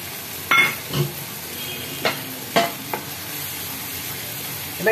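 Masala paste frying in butter in a new frying pan on a gas flame, stirred by hand: a quiet steady sizzle under several separate scraping strokes of the spatula against the pan, spaced unevenly across the clip, with no talking.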